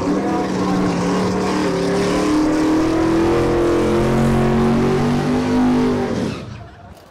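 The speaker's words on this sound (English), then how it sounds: "They're going to burn it out." Drag racing cars, including a 1995 Neon with a 5.3-liter turbocharged engine, do burnouts at Lapeer International Dragway, a loud sustained engine roar with rising and falling revs that fades away at the end.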